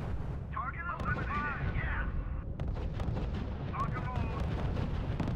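Artillery shells landing on units in the strategy game RUSE, deep booming impacts and rumbling under a radio-style voice that speaks twice, dense and continuous low thuds throughout.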